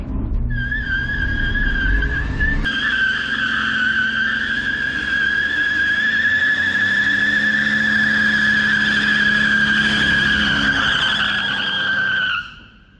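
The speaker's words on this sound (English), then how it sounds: "Burnout time." A stock Ford Ranger pickup does a burnout on worn-out tires, its engine roaring under a loud, steady, high-pitched tire squeal that holds for about twelve seconds before cutting off.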